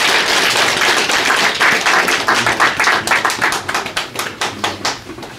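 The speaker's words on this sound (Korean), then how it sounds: "큰 박수 부탁드리겠습니다" Applause at a Korean academic conference on independence movements, as a professor is welcomed to the podium: close, crisp clapping from a modest audience that thins into sparse, distinct claps toward the end.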